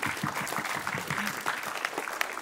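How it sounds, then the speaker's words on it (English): Brief, dense applause from an audience at a cultural performance event in Aotearoa, many hands clapping together at an even, moderate level. "Another big round of applause for them."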